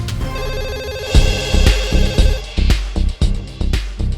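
Telephone rings loudly in a repeating electronic ringtone pattern under music-like tones, a veterinary clinic phone left unanswered, several bursts of ringing in quick succession.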